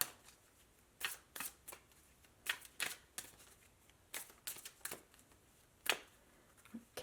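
Tarot cards are shuffled for a reading in short, crisp riffling bursts at an irregular rhythm, close and fairly quiet, with soft pauses between.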